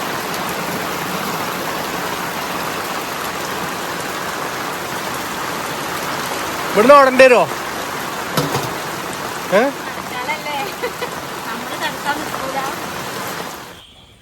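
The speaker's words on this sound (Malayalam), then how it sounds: "നല്ല മഴ ചെയ്തു." Heavy rain pours down in a constant dense hiss throughout, with a few voices speaking briefly over it.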